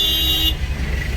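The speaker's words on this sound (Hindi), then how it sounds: "तो एज एक्सपेक्टेड ऊटी में काफ़ी ट्रैफिक है" Dense road traffic in Ooty, with a car horn sounding for about half a second over the steady rumble of engines and tyres, then the traffic noise carrying on alone.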